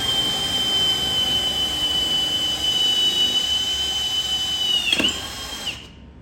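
A power drill whines steadily at a high pitch for several seconds while working on a 2nd-gen Cummins lift build, wavers near the end, then spins down and stops.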